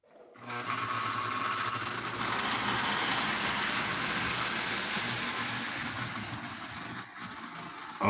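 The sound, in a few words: O scale model train running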